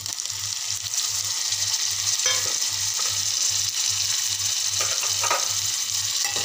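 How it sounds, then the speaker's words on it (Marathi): Chopped tomato sizzles loudly and steadily in a pan of egg bhurji, with a dense hiss, a regular low thumping pulse underneath and a few soft stirring clicks. "आता मी बारीक चिरलेला 1 टोमॅटो घालत आहे।"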